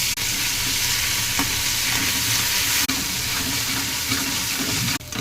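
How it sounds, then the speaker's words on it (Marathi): Chopped green chillies fry in hot oil for fasting sabudana, a loud, steady sizzle that runs unbroken with a few faint clinks of a stirring spoon against the pan. "मस्त मिरची भाजून घ्यायची"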